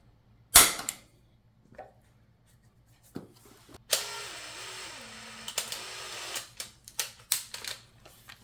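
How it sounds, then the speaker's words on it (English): A sharp metallic strike of a center punch marking a broken screw in a K2 inline skate, followed by scraping and a series of tapping, clicking knocks on metal. "I'm going to use a hole punch to mark the center"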